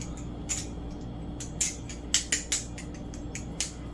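An aluminum Akuma Matata balisong being flipped, with a series of sharp metallic clicks and clacks in irregular bursts over a low steady hum, close and clear.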